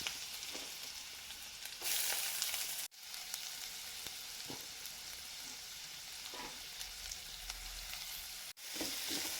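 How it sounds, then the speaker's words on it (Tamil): Steady sizzling of finely chopped onions frying in a pan, with occasional soft stirring scrapes and brief cuts in the sound. "வெங்காயம் செவந்து வர அளவுக்கு வதக்கி எடுத்துக்கலாம்."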